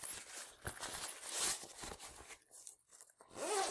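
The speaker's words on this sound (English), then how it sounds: "So what we do is that we close the other zipper here." A zipper on a DIY compression packing cube is pulled shut in several quiet, close, rasping strokes, with brief pauses between pulls and no talking.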